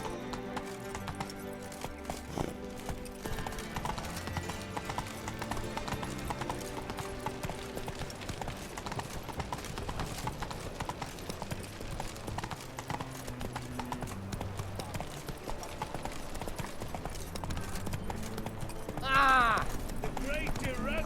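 Horse galloping in The Witcher 3, a continuous rhythmic clip-clop of hooves under background music, with a brief whinny near the end and someone talking.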